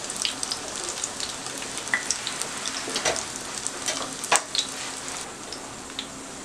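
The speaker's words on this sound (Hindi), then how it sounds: "हल्की आंच पे आप फ्राई करेंगे तो आपको किनारों से पता चल जाएगा कि कबाब कितना फ्राई हो चुका है।" Chicken chappli kabab fries gently in oil on low heat, a soft, steady close sizzle with light scattered pops and crackles, no voices over it.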